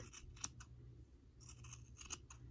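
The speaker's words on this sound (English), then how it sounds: "I think that's trimmed up about as much as I want it to be trimmed up" Scissors trim a yarn pom pom bunny with a few quick, crisp snips in two small clusters, faint and close, over a low background hum.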